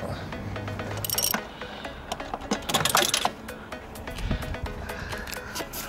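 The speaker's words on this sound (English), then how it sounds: "I'm just going to apply a bit of torque to this to tighten it all up." Tightening the gear linkage of a Vauxhall Corsa VXR while fitting a 4H-Tech short shifter, a tool working in short bursts of ratcheting clicks and metallic clinks, close and moderately loud, with no speech.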